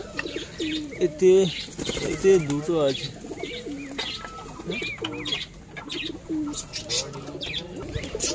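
Pigeons coo and flutter inside their coop, soft repeated rolling coos close by alongside chirps, with someone talking over them.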